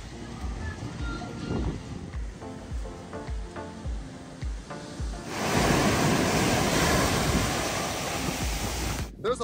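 Ocean waves wash onto a wide sandy beach at the Finest Punta Cana resort, a steady close surf roar that swells louder and fuller midway through, with gusts of wind across the microphone.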